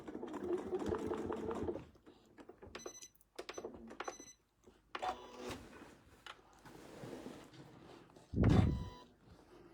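Sewing machine running in short stitching bursts to tack off quilting stitches, moderately close, with pauses and small mechanical clicks between runs and a louder low thump near the end.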